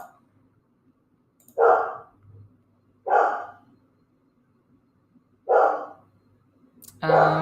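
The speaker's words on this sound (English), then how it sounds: "Sorry if you can hear my dog." A dog barks indoors in four loud single barks spaced one to two seconds apart, slightly distant, in an otherwise quiet room with a faint hum.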